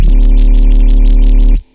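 A thick, buzzy synthesizer bass note holds steadily with a pulsing, wobbling sweep in its upper tones, then cuts off abruptly.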